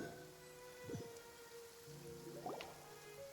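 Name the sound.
rain falling, from the video game Genshin Impact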